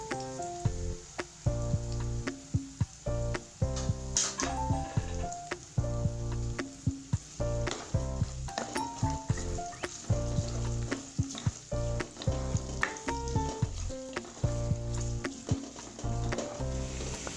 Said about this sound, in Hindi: अब हम अपनी प्याज इसमें डालते हैं।